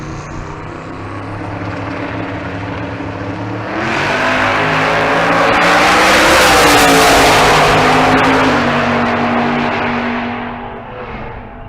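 An Audi drag race car driven with hand controls launching down the strip at Bandimere Speedway: a low idle rumble swells into a loud, rising engine roar that peaks mid-run and then fades with distance, without voices.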